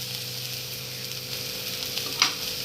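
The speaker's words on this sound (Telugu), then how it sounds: "హై ఫ్లేమ్లోనే దీన్ని వేయించుకోవాలన్నమాట" Chicken manchurian fries on a high flame with a constant loud sizzle and crackle, and a sharp scrape of stirring near the end.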